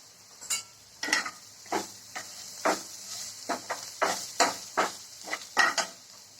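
Turmeric is stirred into pink-fried onions in a hot pan for vada pav filling: a soft continuous sizzle under a regular rhythm of loud, close spoon strokes scraping the pan, with no voices.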